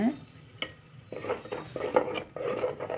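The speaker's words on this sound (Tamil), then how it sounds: "இப்போ அரைச்சி வச்ச ஃபைன் பேஸ்ட்டை உள்ளே ஊற்றிக்கோங்க" Thick finely ground tomato paste scraped and poured into a pan, with a spoon clinking and scraping against metal in uneven strokes, close and fairly quiet.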